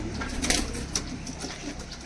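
Punjabi Malwai tournament-flying pigeons coo softly in short low bursts over a steady background hiss, with a couple of brief brighter flutters.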